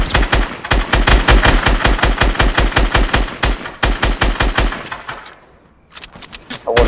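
Fortnite gunfire in a duos match, long bursts of rapid, evenly spaced automatic shots that are loud and close, a short pause, then another burst.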